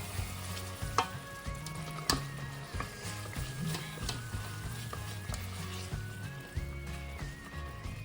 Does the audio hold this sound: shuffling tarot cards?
no